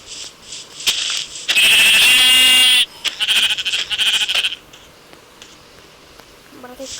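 Goat bleats in a video game: a long, loud, wavering bleat followed by a second, shorter burst, then quieter game ambience with faint clicks.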